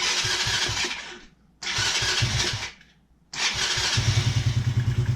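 A Taotao 125 engine is cranked three times without choke, each attempt a loud grinding burst separated by brief silences. It catches on the last try and settles into a fast, close, rhythmic putter.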